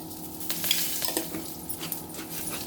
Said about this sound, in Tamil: இப்போ கடுகு வெடிச்சிருச்சு